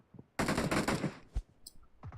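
Burst of MP5 submachine gun fire in PUBG Mobile, a rapid loud volley lasting under a second, followed by a single heavier thud and a few scattered clicks.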